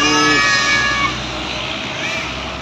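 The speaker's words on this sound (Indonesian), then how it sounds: "Wis, terus ada bus." An Aceh bus passes along a town road, its broad, loud rumble of engine and road noise strongest at the start and easing a little as it moves on, with voices talking over it.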